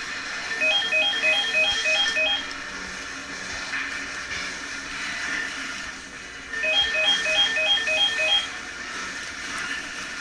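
A telephone rings in the Metroid Prime video game: two bursts of rapid electronic trilling beeps, each about two seconds long, separated by a gap of steady background game ambience and music.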